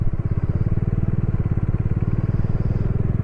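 Bajaj Dominar 400 motorcycle crawling slowly through sand in low gear on a high-altitude Ladakh route near Pangong Lake, a loud, close, steady single-cylinder thump pulsing evenly throughout.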